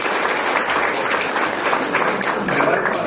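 Steady, dense audience applause at a party swearing-in ceremony in Sabaneta, many hands clapping continuously at even loudness throughout.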